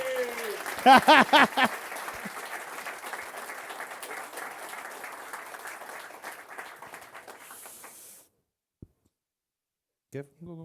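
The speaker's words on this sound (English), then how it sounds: "just clap, let's just clap" An esports awards crowd in Malta claps for nominees and winners, with a talking voice over the opening, then sustained, even applause that stops abruptly, leaving near silence and a few faint sounds.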